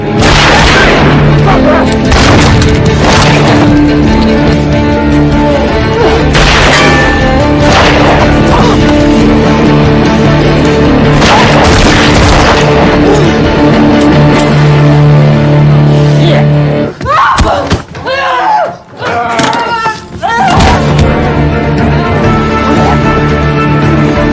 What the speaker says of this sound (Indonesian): terjadilah adu tembak